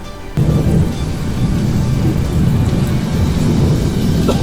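Deep rumbling thunder rolls on continuously during a storm, loud and close, with steady rain noise underneath and no talking.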